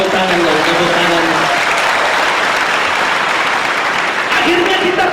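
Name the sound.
congregation applause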